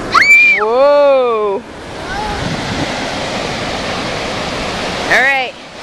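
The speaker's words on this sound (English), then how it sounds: "You see the waves coming?" Ocean surf washes in at the shoreline as a broad, loud roaring rush lasting several seconds, with voices calling out just before it and again as it fades.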